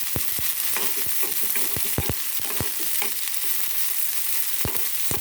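Mustard seeds, onion and curry leaves frying in a hot pan, with a steady sizzle under rapid, irregular crackles and pops from the seeds, heard close with no talking.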